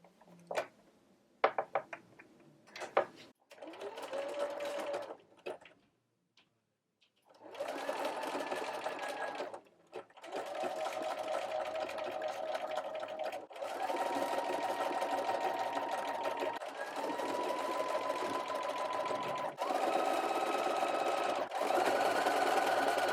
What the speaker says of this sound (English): I'm going to do my blind stitch right for this hemline